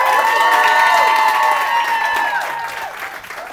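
A comedy club audience cheers and applauds loudly, with whoops and dense clapping that gradually thin out and fade over a few seconds.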